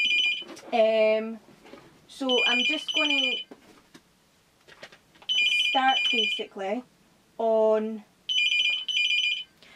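A house telephone rings repeatedly in bursts of bright trilling bells, fairly close and loud, alternating with someone talking in between and over the rings indoors.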